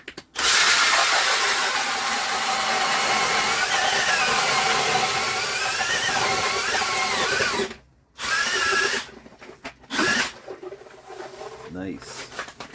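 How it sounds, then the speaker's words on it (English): A power auger drills a hole through ice for ice fishing, a loud, steady motorized whine lasting several seconds, then stopping and restarting in brief bursts with scraping in between. "going to drill another hole."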